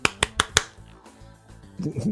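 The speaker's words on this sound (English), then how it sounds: "It's a Friends clap" Four sharp, evenly spaced claps in the style of the Friends theme song, crisp and close, followed by quieter low-pitched sounds and a brief murmur of voice.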